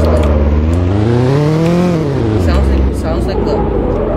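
A 2014 Mitsubishi Lancer Evolution engine in a Roblox game revs up and back down in a smooth rising and falling drone, loud and close, with a voice talking over it.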